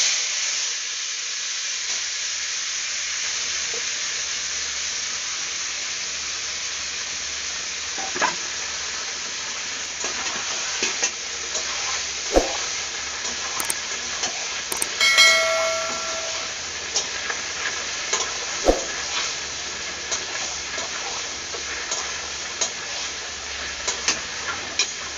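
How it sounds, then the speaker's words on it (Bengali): Mutton tipped into a hot pan hisses in a steady loud sizzle, with scattered scraping stirs and clinks of a spoon against the pan; no talking. "এবার আমি এই যে মাংসটাকে ঢেলে দেব।"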